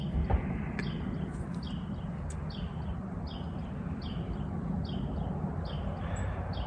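A small songbird repeats a short high chirping phrase about every half second, faint and distant over a low rumbling outdoor wind background in the morning.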